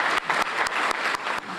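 Brief, close applause for a choir at a United Way kick-off luncheon, a dense run of clapping with a few sharp individual claps standing out.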